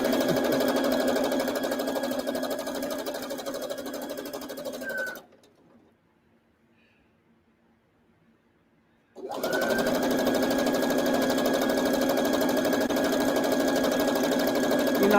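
A sewing machine chain-pieces a beginner's quilt top, running in a loud, steady hum for about five seconds, stopping for a few seconds of near silence, then starting up again and running on steadily.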